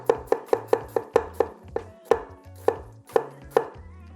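Crisp rapid chops of an ENOWO Damascus 8-inch chef knife striking a cutting board, about a dozen sharp knocks in a mostly steady rhythm that slows toward the end, close and clear.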